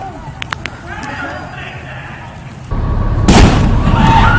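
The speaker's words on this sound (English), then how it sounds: "This explosion erupting after a fire at UNC's Tree of Knowledge" An explosion erupting after a fire at UNC's Tree of Knowledge: a loud, sudden burst that jumps into a sustained roar, with a sharp crack partway through, over fainter earlier pops and crowd noise.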